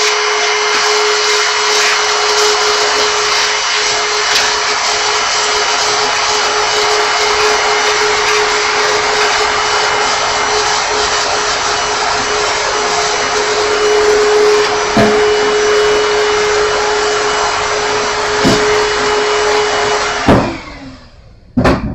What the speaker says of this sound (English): Put on the vacuum cleaner, hit mute on your headphones.